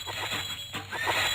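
Horses neigh in the medieval strategy game Feudalism, a couple of whinnying calls over faint hoof clip-clops and game background noise, close and brief.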